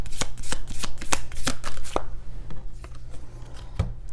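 Oracle cards are shuffled by hand in a quick series of crisp riffling flutters and soft slaps, close and clear, tapering into sparser taps toward the end, with no talking.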